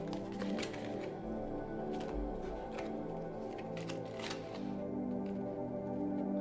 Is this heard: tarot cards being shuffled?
yes